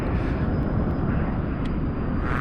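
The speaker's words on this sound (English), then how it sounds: "you can hear my engine is dying, which means I'm out of fuel" A steady, loud video game jet engine roar from a dying, fuel-starved F-100D engine fills the clip with a broad rushing drone and a thin high whine, no talking.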